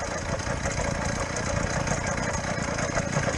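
A motorcycle engine running just above idle while riding on snow during a February sleet ride: a steady, rough mid-low drone with constant level and no revving, close and continuous throughout.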